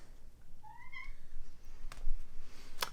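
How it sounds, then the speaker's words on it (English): An indoor house cat gives a short, clear meow near the start, followed by a couple of faint knocks and a brief sharp rustle, with no talk. "I thought I heard a kitty cat in here."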